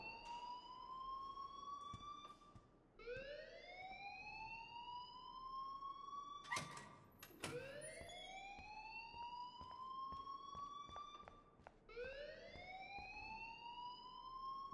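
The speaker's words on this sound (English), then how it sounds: "please turn off that alarm since that's your job" A fire alarm siren blares in the Life is Strange video game, rising and falling in long repeated sweeps that are loud and close, with a brief burst of other noise midway.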